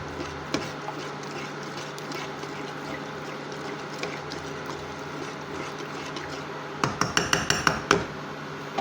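A utensil stirs carbonara pasta in a pan with light scraping and clinking, then a quick run of sharp metallic clinks near the end, close and fairly quiet.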